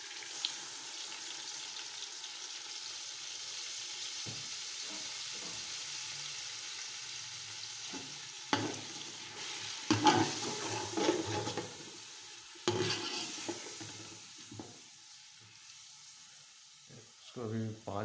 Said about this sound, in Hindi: और साथ में टमाटर डाल देते हैं, टमाटर और हरी मिर्च।